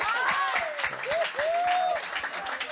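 An audience applauds at a church healing service, with rapid scattered clapping and voices calling out over it.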